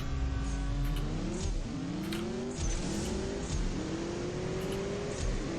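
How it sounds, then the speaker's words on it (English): A BMW M8 Coupe racing in the mobile drag game CSR2: a loud engine revs hard through repeated gear shifts, each rising whine dropping sharply at the change, continuous and close with no voices. "The car seems to drive pretty nice like this."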